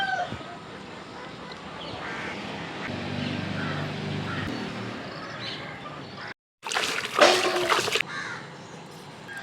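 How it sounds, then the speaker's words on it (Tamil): A peacock calls outdoors near a home in the morning: a loud, harsh burst that comes right after a brief gap, rising over steady background noise toward the end. "மயில் கத்துதுடி."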